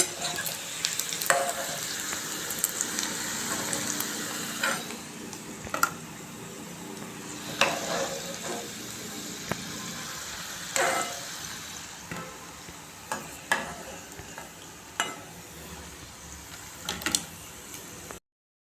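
Egg 65 pieces frying in hot oil give a continuous soft sizzle, broken by periodic scraping clinks of a utensil stirring and turning them in the pan.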